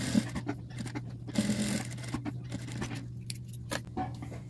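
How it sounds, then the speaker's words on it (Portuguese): A sewing machine runs close by in short bursts and pauses, its motor whirring and needle clicking as it stitches a narrow folded fabric strip for a small coin purse keychain, quiet with no talking. "E vou passar uma costurinha de cada lado."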